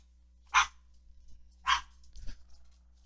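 A dog indoors barks twice, sharp and separate, followed by a softer short yip or grumble, each fairly close against an otherwise quiet room with a low hum.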